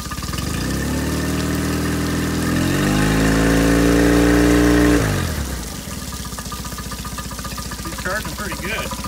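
A Mercury 8hp outboard motor runs steadily, then revs up to a higher, louder whine. It drops back to a rough, chugging idle, close and continuous throughout.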